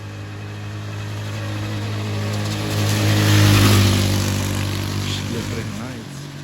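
A motorcycle engine idles with a steady hum, then revs up to a loud peak midway and falls back to a lower running note.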